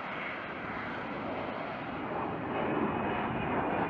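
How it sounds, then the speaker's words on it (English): F-35B jet engine driving its lift fan aboard an aircraft carrier at sea, a loud, steady broadband roar that swells slightly toward the end, with no voices. "uses the main engine connected to the lift fan by a shaft and a high-speed clutch"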